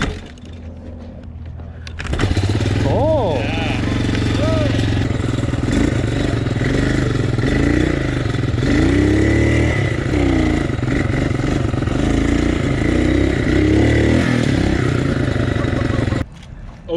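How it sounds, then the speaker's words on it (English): An SP500 motorcycle on a short night test run in a parking lot, its engine running loud and steady with several rising revs and clattery mechanical noise throughout. "That night, I was able to get a short test run in on the SP500."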